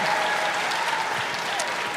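An audience at a live show applauds, a dense, steady wash of clapping that holds at an even level from start to finish.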